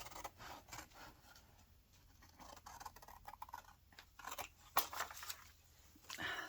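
Scissors roughing up the edge of a paper marriage registration certificate to age it, a soft irregular rasping and rubbing that continues steadily, close and quiet, with a few sharper scrapes.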